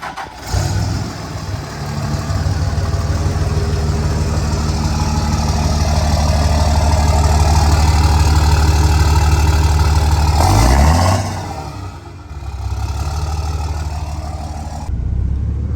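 A Cummins 5.9 diesel engine in a third-generation truck with 230,000 miles, fitted with a new manifold and turbo, rumbles steadily at idle, close by, with a brief change in pitch near the end before settling back to a low idle.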